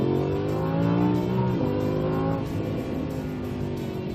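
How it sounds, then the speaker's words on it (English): An Audi R8 V10 plus engine drones loudly under acceleration, with a quick dip and blip as the automatic gearbox downshifts midway, then a steady strong hum. "Love the downshift, man, automatic downshift."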